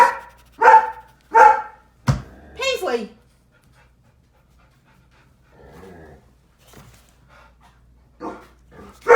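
A dog lets out several sharp barks close by, followed by a person calling out; quieter shuffling and murmurs follow.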